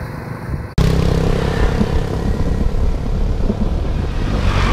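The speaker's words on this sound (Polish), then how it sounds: "Jaki sznur motocykli." Steady stream of motorcycles and scooters passing close by on a village road in Vietnam, a continuous dense engine drone with overlapping rumbles, starting abruptly after a brief quieter moment.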